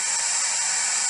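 A white noise device in a food truck court hisses steadily, a faint, even broadband hiss with no breaks or other sounds over it.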